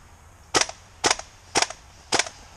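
An airsoft pistol fires four sharp, close shots at an even rhythm about half a second apart, each a crisp snap with no talk between them.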